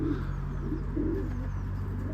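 Soft, low pigeon coos repeat a few times over a steady droning hum, moderately close.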